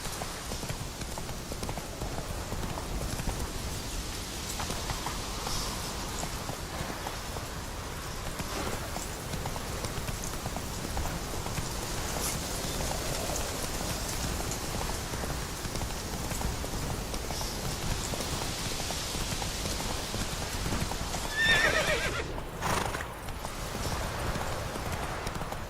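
A horse's hooves clip-clop in a continuous, even rhythm through falling rain in The Witcher 3, with a steady wet patter of rain underneath and no talking.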